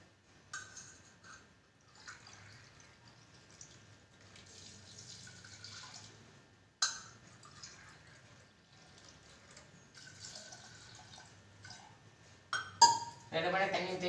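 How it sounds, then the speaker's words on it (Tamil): Water is poured close up into a cooking pot of lentils at a cooking contest in Thoothukudi, coming as several intermittent splashing pours with a sharp metallic clank near the end. "ரெண்டு மடங்கு தண்ணி ஊற்றணும் சொல்லியிருந்தேன்."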